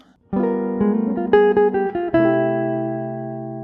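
Solo jazz guitar plays a brief 5-1 melodic phrase that resolves onto a final chord, its notes let ring and slowly fade.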